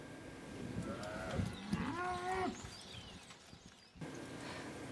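A cow, likely one in a farm-handling setting, lets out a single drawn-out moo at moderate distance over a faint, steady background of livestock noise and shuffling.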